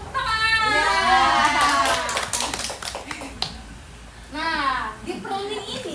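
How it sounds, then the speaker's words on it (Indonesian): A roomful of women at a school teacher-training session in Serang clap together in a short burst of sharp hand claps, set among chanting and talking voices. "Tepuk tangan."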